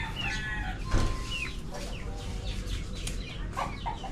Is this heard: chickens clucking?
yes